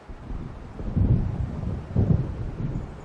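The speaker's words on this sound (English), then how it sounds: "It seems there's a storm coming." Low rumbling thunder of an approaching storm in the game Alan Wake Remastered, two deep swells rolling in amid windy noise, with no voices.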